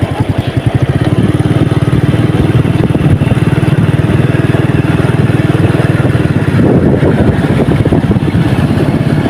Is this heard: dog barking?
no